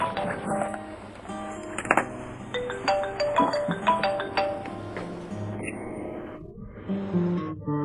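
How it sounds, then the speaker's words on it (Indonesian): A phone ringtone plays repeatedly with a melodic, electronic tone, mixed with room noise and brief background voices. "Telepon berdering."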